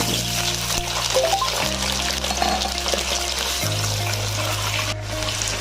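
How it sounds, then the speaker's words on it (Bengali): Potatoes frying in hot oil with salt and turmeric for a mutton dish give a loud, continuous close sizzle with light stirring and bubbling, steady throughout, with no voices. "আলুগুলো আমি ভেজে নিলাম"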